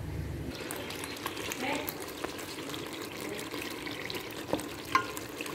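Spice masala for Hyderabadi bagara baingan fries in oil, a steady soft sizzle with occasional stirring clinks and scrapes in a home kitchen.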